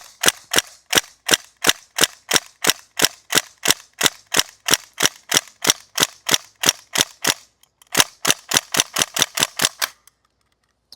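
A North East STEN airsoft gun fires BBs in a steady, rapid string of about thirty sharp cracks, loud and close, with one short gap near the end before the shots stop abruptly. No voices.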